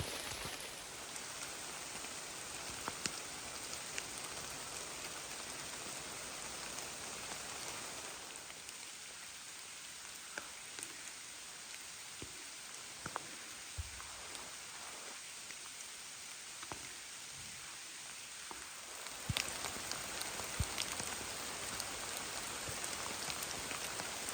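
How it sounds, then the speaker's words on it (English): Steady rain falls through a rainforest in Dorrigo National Park, a dense, even hiss with scattered closer drops tapping on leaves throughout, quieter through the middle stretch and without voices. "Rainforests are meant to be explored in the rain."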